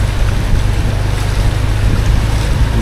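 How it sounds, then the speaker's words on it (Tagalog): Floodwater waves washing along a flooded street, a loud steady rush and slosh mixed with wind buffeting the microphone, continuous throughout. "Taas ng alon."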